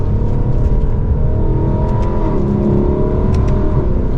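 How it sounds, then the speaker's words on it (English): A Lexus accelerates with quick, smooth gear shifts, its exhaust note rising in steady sweeps close by, loud and continuous with no talking. "Those shifts are almost non-existent. They are that smooth and quick going through those gears."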